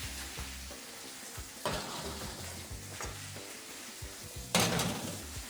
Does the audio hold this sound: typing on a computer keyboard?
no